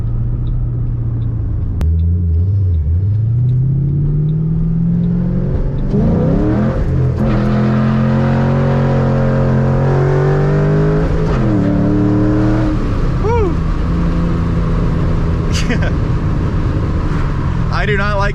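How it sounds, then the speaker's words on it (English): Inside a Mustang on the road, a loud engine drone rises and falls steadily while a rally car passes nearby, and the driver talks over the rumble. "Oh, there's a rally car right there."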